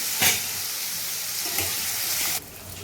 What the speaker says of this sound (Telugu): అవి వేసుకొని కొంచెంసేపు ఫ్రై చేసుకోవాలి